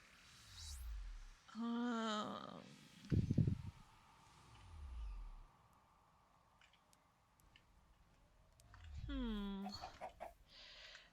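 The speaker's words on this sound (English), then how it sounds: "I heard chickens" Several short clucks from Minecraft chickens come and go amid soft ambient background, with a couple of brief louder bursts and a quiet stretch in between.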